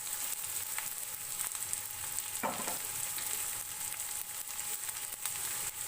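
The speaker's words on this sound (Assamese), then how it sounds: "গোটেইখিনি সামগ্ৰী দি এবাৰ লৰাই ভাজি থাকিম।" Chopped onion, ginger, chilli and garlic fry in hot oil in a wok, giving a soft, continuous sizzle with occasional stirring clicks, heard fairly quietly and up close.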